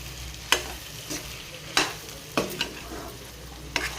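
Sliced onions fry in a pan for chicken curry with a steady sizzle, and a spatula scrapes and stirs in several sharp strokes spaced about a second apart.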